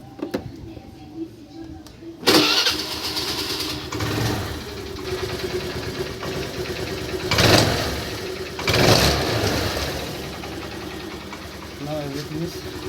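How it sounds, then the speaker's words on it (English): A Hero Pleasure petrol scooter engine is ignited after a fuel pipe repair, with a sharp start followed by a steady close idle and two brief revving surges. "Now I'm going to ignite my scooter."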